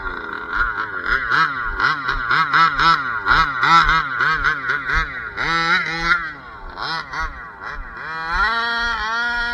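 A King Motor 30.5 dimpleport gas engine in an RC car revving hard on pavement, a loud buzzing whine rising and falling in rapid pulses as the throttle is blipped, close up and continuous.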